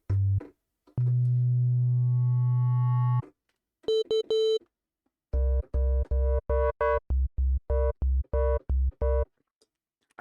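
A synth bass built from two FM-modulated sine waves: a long sustained low buzzy tone, a brief higher beeping burst, then a run of short punchy bass plucks in a choppy rhythm, loud and with no voices.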